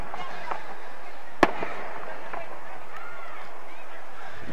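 Fireworks at an evening Christmas parade in New Castle, Pennsylvania: distant thuds and crackles with one sharp loud bang, over a soft murmur of crowd voices.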